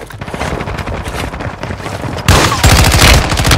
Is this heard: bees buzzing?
no